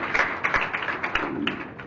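Audience clapping in welcome at a spiritual gathering honouring Gurudev Kanjiswami, a light, scattered patter of hand claps and taps at moderate distance, with no voices over it.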